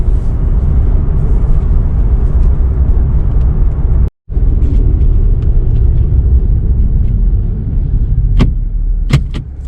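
Nissan 370Z base coupe with a manual shift and traction control off, heard as a loud, steady low engine rumble from inside the car, with a brief dropout and a few sharp clicks near the end.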